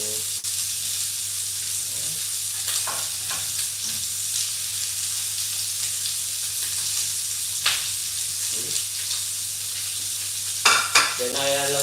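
Pork binagoongan with coconut milk sizzles and hisses steadily in a pan on the stove, with occasional stirring clinks and scrapes over the constant frying noise.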